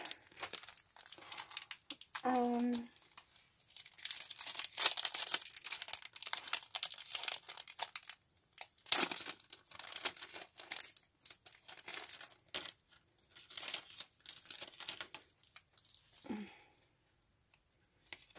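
Crinkling and tearing of a mail package's plastic wrapping as it is opened, with close, irregular rustles and crunches running in bursts throughout, a few brief sniff-like sounds.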